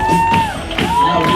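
A crowd shouts and whoops for Laurita, number 7, crowned winner of a BALTIC performance contest, with loud continuous voices and a tonal whistle-like cry rising over the din for just over a second.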